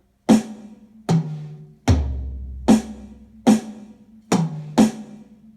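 A drum kit plays a slow sequence of seven separate hits, snare, high tom, low tom, snare, snare, high tom, snare, with snare cracks and tom thumps each ringing out briefly before the next.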